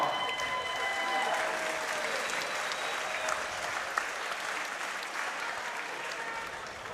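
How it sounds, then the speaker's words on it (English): Sustained applause from a crowd at a Muay Thai fight event, honouring two female 58 kg fighters after five rounds; steady, dense clapping that holds at an even level throughout, with faint voices and a cheer mixed in. "A huge round of applause for both these gladiators."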